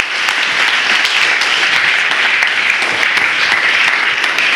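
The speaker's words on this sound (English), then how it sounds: "I wonder if we can give them a round of applause" An audience at an innovation event gives a jury a loud, steady round of applause, dense clapping sustained throughout without letup.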